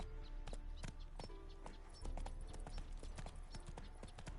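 A horse's hooves in The Witcher 3 clip-clop in a quick, steady trot, close and distinct over a low game backdrop.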